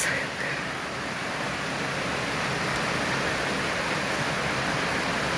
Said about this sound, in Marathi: कशी पावसाची सर येते बघा